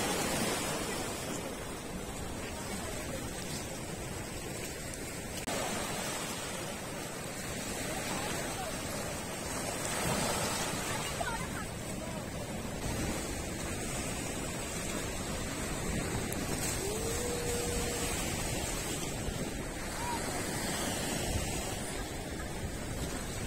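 Waves wash onto a beach at Kalpity Island, Lakshadweep, a steady, moderately faint surf hiss that rises and falls gently throughout, with no talk.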